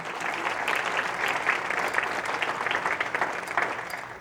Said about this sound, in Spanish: Alguien dele un fuerte aplauso al Cristo de la gloria